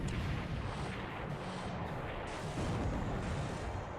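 The heavy cruiser Mogami fires its guns in the naval video game War in the Pacific, a loud, continuous rumbling barrage of artillery booms with no talk.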